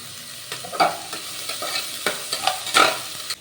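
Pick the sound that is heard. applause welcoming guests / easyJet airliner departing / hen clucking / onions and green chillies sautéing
onions and green chillies sautéing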